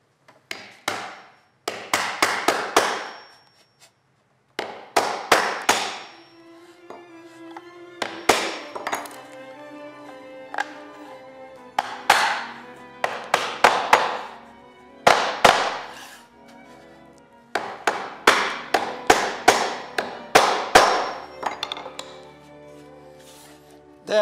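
A hammer strikes a chisel cutting wood dovetails for a drawer, sharp percussive blows in quick bursts separated by pauses, close and crisp, with no talking.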